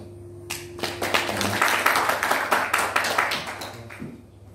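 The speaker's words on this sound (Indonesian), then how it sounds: "Kita beri aplaus." Applause from a studio audience at an Indonesian parliamentary dialectics discussion, a few scattered claps swelling into steady clapping for several seconds, then tapering off.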